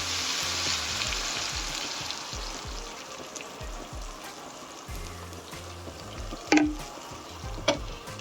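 All-purpose cream going into a hot pan, a soft sizzle that eases into a gentle bubbling hiss, with low rhythmic thumps underneath and a couple of sharp clinks near the end.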